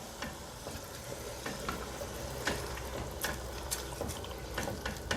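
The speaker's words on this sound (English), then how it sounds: "The next thing we're going to be adding is our coconut milk and the meat stock. Then I'm going to stir." Coconut milk and meat stock being stirred in a pot for coconut fried rice, a steady low simmering wash broken by scattered soft scrapes and clinks of a spoon, close and moderately quiet with no talking.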